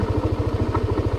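A motorcycle engine runs steadily nearby with an even, rapid thumping pulse, loud and without talk over it.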